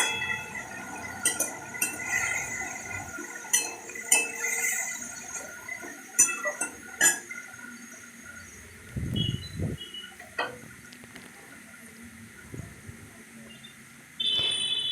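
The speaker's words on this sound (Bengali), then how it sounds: "একটু নাড়াচাড়া করে নিচ্ছি যাতে সবজিটা না লেগে যায়" Utensil scraping and clinking in a pan as spiced vegetables with salt and turmeric are stirred, irregular soft knocks and scrapes at moderate distance over a faint background hum.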